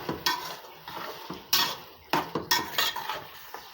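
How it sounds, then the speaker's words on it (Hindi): Garlic, ginger and minced keema frying in a pan, close and moderately loud, with irregular scraping and clinking stirring strokes of a spoon against the metal over a soft sizzle. "अब 5 मिनट के लिए मज़ीद अच्छी तरह से इसको भून लेंगे हम।"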